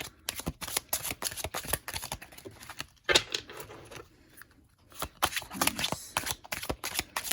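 A tarot deck is shuffled by hand up close, giving quick crackling riffles and card slaps in uneven bursts, with a short quieter lull midway before the rapid shuffling resumes.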